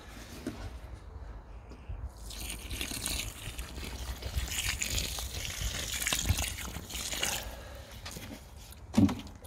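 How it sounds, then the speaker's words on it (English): Water gushes and trickles steadily for several seconds, close by, fading out toward the end, as it is poured into concrete mix for a fence post. "so I'll add more water to that now."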